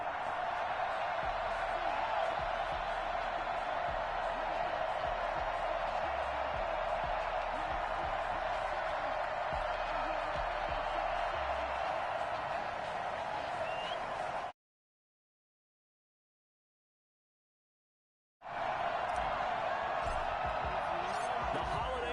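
Steady broad roar of a football stadium crowd at FedEx Field before an NFL game against the Carolina Panthers, continuous and distant-sounding, with a commentator talking over it and a short silent gap near the end.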